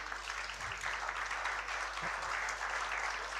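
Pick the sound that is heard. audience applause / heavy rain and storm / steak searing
audience applause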